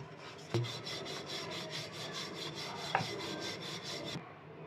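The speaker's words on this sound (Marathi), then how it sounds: "आता ह्याच्यावर ना थोडंसं परत सुकं पीठ घालून घेऊयात आणि पराठा लाटून घेऊयात" A rolling pin rolls out beetroot and paneer paratha dough in a steady back-and-forth rhythm of soft rubbing strokes. A couple of light taps break the rhythm. It is close, quiet and without talk.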